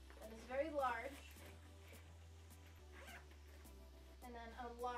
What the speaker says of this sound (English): And it zips completely closed